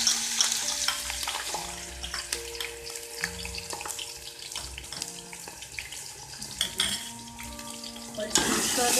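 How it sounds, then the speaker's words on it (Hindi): Ginger garlic paste added to browned onions in a pan for green chickpea pulao, sizzling and frying steadily with stirring and scraping noises throughout, close and fairly loud, with no talking. "अब हम इसमें डाल देते हैं अदरक लहसुन का पेस्ट।"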